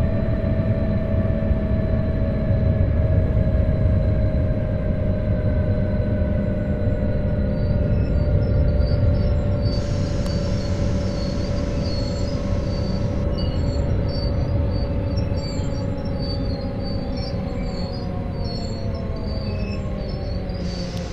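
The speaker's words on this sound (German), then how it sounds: "nutzen Sie die dynamische Bremse, um den Zug anzuhalten." RABe 523 electric multiple unit in Train Sim World 3 braking to a stop on the Luzern–Sursee line, with a steady loud rolling rumble and high metallic brake whine running throughout, no talk.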